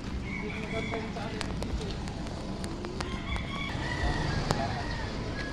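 A loose chicken clucks and calls outdoors, short sharp notes scattered over steady background noise, with people talking nearby.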